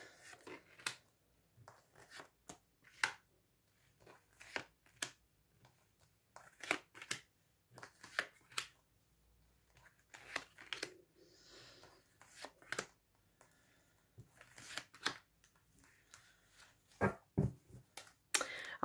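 Tarot cards are shuffled by hand for a reading, heard as soft, intermittent riffling and slapping bursts spread over the whole stretch, fairly quiet and close, with no talking.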